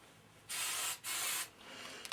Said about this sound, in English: you just take your hairspray, and I literally spray the bejeebers out of it